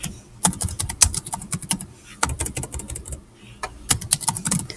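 Someone types on a computer keyboard in fast, close, crisp clusters of clicks, pausing briefly between runs of keystrokes.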